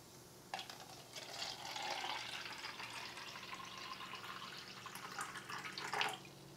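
Fizzy carbonated drink pours out of a SodaStream bottle in one fairly soft, steady hissing splash lasting about six seconds, ending with a brief louder gush. No one speaks.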